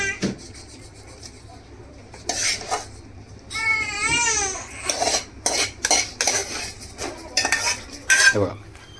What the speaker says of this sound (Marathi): हे बघा असं ठेवायचं आणि चमचा आहे तो फिरवत बसायचा